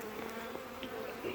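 Honeybees from a package being installed in cold weather hum in a steady close drone, a continuous buzzing with small rises as individual bees pass near.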